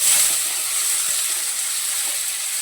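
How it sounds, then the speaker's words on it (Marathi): Onion sautés in hot oil with cumin, garlic and curry leaves, giving a close, even, hissing sizzle that holds steady throughout with no voices. "मी आता कांदा परतून घेते चांगला"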